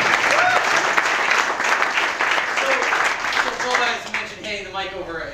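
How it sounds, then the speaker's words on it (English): A conference audience applauds a speaker taking the stage, loud dense clapping throughout, with voices rising over it as it winds down near the end. "Let's have a round of applause for Rick."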